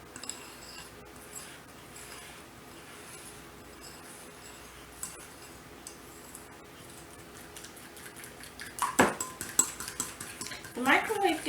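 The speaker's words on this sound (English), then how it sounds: "Just trying to stir it up real good." Faint scraping and clinking of a spoon stirring melted chocolate chips in a bowl, quiet for a while, then louder rapid knocks and scrapes against the bowl near the end, with no talk over it.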